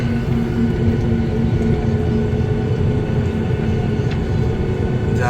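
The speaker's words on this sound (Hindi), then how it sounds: "अब टेक ऑफ हो रहा है, बिल्कुल ये स्पीड पकड़ ली है उसने।" A passenger jet accelerates for takeoff, its engines giving a steady, loud rushing roar with a constant low hum running underneath the whole time.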